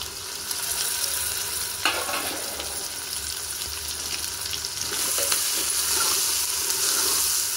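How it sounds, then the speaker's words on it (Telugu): Tomatoes stirred into a sizzling pan of mutton paya (goat leg) curry, with a steady loud frying hiss and occasional scraping strokes of a spoon, close up and continuous throughout. "ఇవన్నీ కలుపుకోవాలి"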